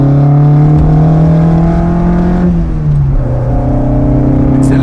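An Alpine A110 engine accelerates hard from close by, giving a loud, sustained, rising drone with a strong tonal growl. The pitch dips midway as if shifting gear, then climbs again.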